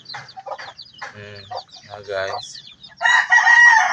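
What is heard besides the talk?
chicken clucking and crowing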